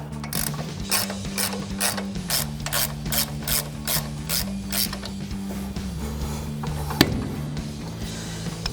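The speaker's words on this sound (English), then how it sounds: "I'm gonna take my 1/2 inch drive now with my 18 millimeter on it and just ratchet this out" A 1/2-inch drive ratchet with an 18 mm socket backs a bolt out during a Ford F-250 front leveling kit install, giving rapid, close metallic clicking in regular bursts with short pauses between strokes.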